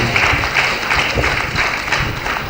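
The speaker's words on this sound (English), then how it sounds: "I'd like us to please applaud them one more time." An audience at a midwifery conference in Nigeria claps steadily in dense, even applause, with no pause across the short stretch.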